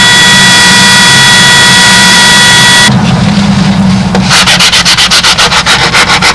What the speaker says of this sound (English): Now the rest of this we can take off with a sanding block.